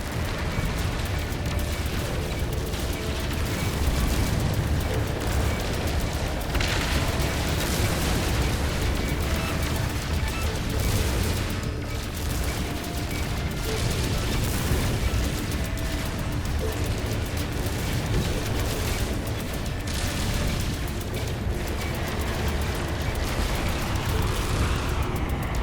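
Gunfire and explosions strike the player's ship or suit in the space game No Man's Sky, a dense, continuous barrage of booms and bursts that lasts throughout, loud and unbroken with no talk.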